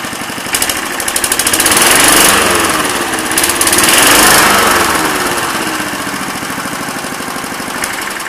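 A new lawn mower engine idles loud and close, a rattling, buzzy chug that swells and dips twice as the speed wavers before settling back to a steady idle.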